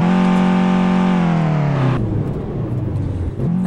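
Alfa Romeo Giulietta with a 1.4 MultiAir engine in Euro Truck Simulator 2, revving high and steady, then easing off into a lower, rougher drone as the revs fall.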